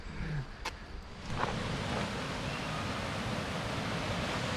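Kaaterskill Falls pours steadily from the top of the falls along a forest trail, a constant broad rushing roar that stays even and fairly loud, with a brief light tap near the start and no talking.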